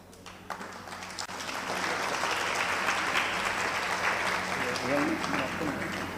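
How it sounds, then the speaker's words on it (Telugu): A crowd at a Christian healing service claps hands in loud, sustained applause that swells after a quieter start and stays dense and continuous, with a voice speaking over it. "కొడా యేసు నామములో మీరు కొట్టండి చెప్పట్లు"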